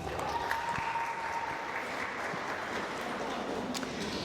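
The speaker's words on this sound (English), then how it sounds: "You can give yourselves a round of applause for that." Guests at an evening 25th birthday celebration clap steadily for several seconds, a soft, even round of applause from a room full of people.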